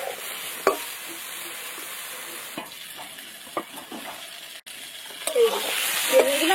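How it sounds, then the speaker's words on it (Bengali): Eggplant pieces with turmeric and salt frying in a pan, a steady close sizzle broken by a few sharp stirring scrapes and knocks, with brief speech near the end. "এবার বেগুনটা আমি ভালো করে ভেজে নেব।"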